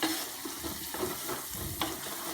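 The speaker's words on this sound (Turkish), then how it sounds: "Duz əlavə etdiyimiz zaman soğanlar daha tez karamelize olunur" Salted onions frying and caramelizing in a pan, a constant close sizzle with small crackles and occasional pops and no voices.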